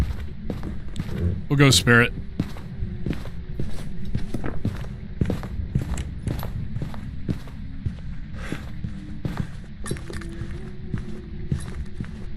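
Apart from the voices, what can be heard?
normal footsteps in a ghost-hunting video game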